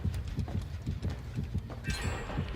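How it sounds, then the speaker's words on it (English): Rhythmic clip-clop of a horse character's hooves in a video game, steady repeated thumps close by, with a brief brighter noise near the end. "those are her horse footsteps"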